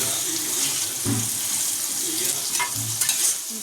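Chopped onion and tomato cooking in a pan at home, an ongoing near sizzle with a few stirring knocks and scrapes, no talk over it.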